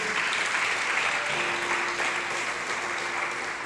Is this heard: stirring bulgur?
no